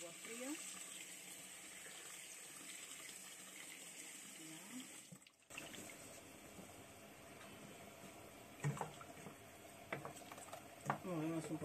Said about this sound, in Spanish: A poner un chorro de agua fría.